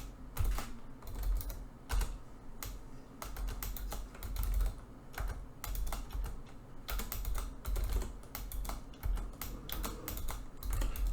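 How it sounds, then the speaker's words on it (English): Steady, rapid keystrokes on a computer keyboard while simple HTML code is typed in Visual Studio Code, close and clear with irregular bursts and brief pauses, no voices. "Let's start typing some simple code without formatting."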